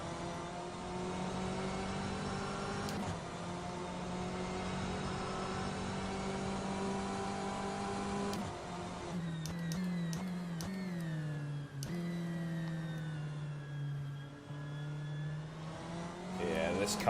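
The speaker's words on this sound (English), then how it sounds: "Just love that transmission whine as well" Race car in rFactor 2 from the Endurance Pack DLC, a steady high transmission whine over the engine drone, shifting pitch through gear changes midway, with a voice talking over it.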